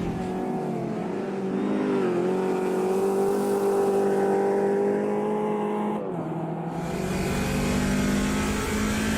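A 1971-style race car in Automobilista 2 on the Nordschleife, its engine holding a sustained loud rev, dipping briefly as it shifts and then pulling on again, with no talk.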